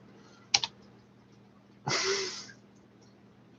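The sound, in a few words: typing on a computer keyboard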